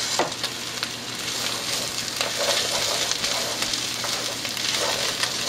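Arborio rice being stirred in a pan over a steady sizzle, with scraping stir strokes recurring through the clip; no one speaks.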